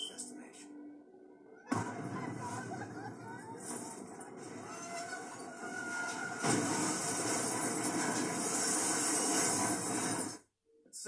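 A train rolling on rails in Call of Duty: Black Ops, a steady loud rumble with metallic rattle and hiss, swelling midway and cutting out briefly near the end, with game dialogue spoken over it.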